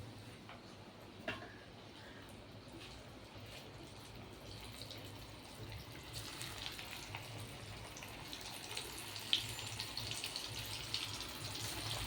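Bread-coated fish fingers fry in oil, a soft steady sizzle that grows louder and brighter partway through, with a few faint clicks and taps.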